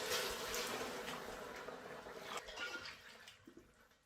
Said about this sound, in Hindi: तो मैं 4 गिलास पानी इसमें ऐड करूंगी।